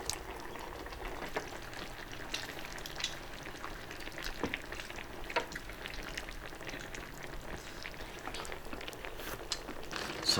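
Pork trotters with kelp and kidney beans being stir-fried in a home kitchen pan, a steady crackling sizzle with scraping stirs running throughout, fairly close and moderate in level, with no talking.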